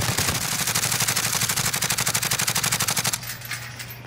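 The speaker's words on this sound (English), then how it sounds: "There it is. Gunfire at Nova." Rapid automatic gunfire in Call of Duty: Modern Warfare rattles loudly in a steady burst for about three seconds, then cuts off, leaving a low hum and faint game ambience.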